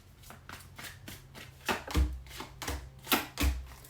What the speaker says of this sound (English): Why can't I shuffle your cards today?